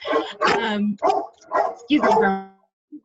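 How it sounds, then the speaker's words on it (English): Pet dogs bark in the background during a virtual panel discussion, with yips mixed under a nearby speaker's voice. "I apologize for my dogs barking in the background."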